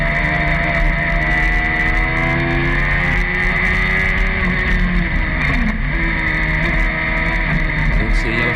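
Colin's racing car engine on the Kirkistown circuit during a Sevens race, a dense, continuous loud drone with harmonic whine holding steady, heard from an onboard or close position without talking.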